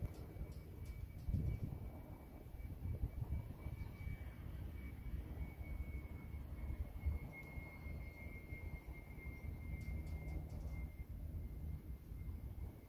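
A fixed-wing airplane takes off along the main runway at Prestwick Airport, its engine a steady, distant rumble that holds evenly throughout with no talk over it.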